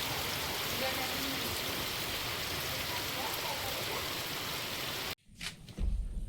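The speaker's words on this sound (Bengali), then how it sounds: "আজকের দেখুন অনেক জোরেই বৃষ্টি শুরু হয়েছে" Heavy rain pours steadily onto a rural yard turning to mud, a dense, loud, unbroken roar for about five seconds before it cuts off abruptly, followed by faint knocks and handling noise.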